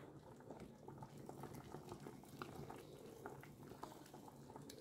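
Ripe bananas simmer in a pot of water, a faint, soft bubbling with gentle irregular popping that stays quiet and steady throughout, with no one speaking.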